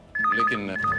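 An electronic telephone rings in a Hindi crime drama scene, a short warbling two-tone ring repeating in quick bursts, loud and close, with a voice speaking briefly underneath.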